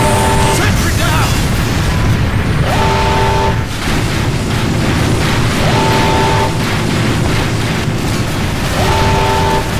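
A sentry gun blows up in Team Fortress 2 Mann vs Machine, a loud explosive burst buried in dense, continuous game noise with repeating tonal effects over roughly ten seconds.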